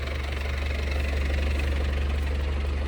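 An MTZ tractor engine runs at a steady, close idle with a low, even, knocking throb that continues unchanged throughout, with no speech.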